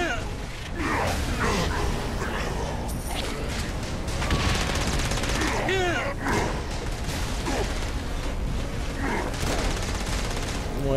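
Gunfire rattles in the video game Saints Row: Gat out of Hell, with dense bursts of shots and mechanical clatter under game music and effects, while a voice talks over it.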